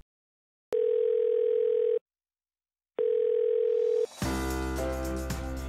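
Telephone ringback in a Playmobil family cartoon where the call goes unanswered: two long steady tones with a pause between them, then a burst of bright chiming music.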